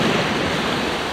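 Sea waves wash along the shore in a continuous broadband rush, loud and close, with some wind noise on the microphone and no speech.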